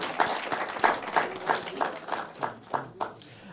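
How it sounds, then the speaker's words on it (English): An audience at a university law competition applauds the two teams, a dense crowd clapping that settles into a slower, regular rhythm of about eight distinct claps before fading. "A round of applause for them,"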